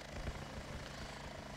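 A scout helicopter in the combat video game Heliborne flies with a steady, dense rotor and engine roar that holds at an even level throughout, with no voices over it.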